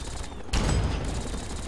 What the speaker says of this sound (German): Ich schieße schon mal voll daneben.